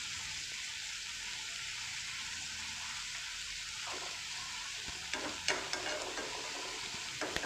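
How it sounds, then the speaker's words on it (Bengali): Prawns frying in onion, ginger and garlic masala over low to medium flame, a steady soft sizzle throughout with a few light stirring scrapes and clinks near the end. "চিংড়ি মাছটা কিন্তু সুন্দর করে ফ্রাই হয়ে গেছে মশলার সঙ্গে"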